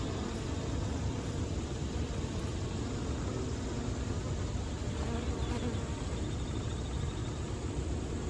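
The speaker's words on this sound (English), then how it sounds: "Look at all the bees." Bees buzz around a flowering sumac shrub on a warm morning hike in a park, a dense steady hum of insects close by that holds for the whole stretch without pause.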